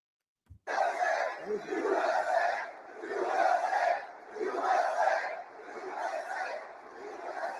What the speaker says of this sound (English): a stadium full of right-wing Trump supporters cheering RFK Jr.